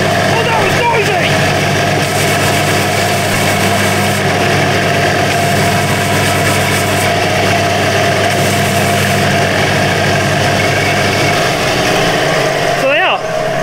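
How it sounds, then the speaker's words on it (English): Linisher-type belt sander running on worm-eaten wooden furniture, a loud, steady motor drone with a droning belt hum held for the whole stretch, cutting off abruptly near the end. "take it over to the sander over here, that Linnisher type sander"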